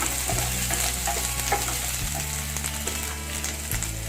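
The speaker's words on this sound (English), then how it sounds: "we are going to add our onions and cashew nuts and saute them lightly" Onions and cashew nuts sauté lightly in a pan for a restaurant-style mushroom baby corn dish, giving a continuous close sizzle with steady stirring and scraping, no voices.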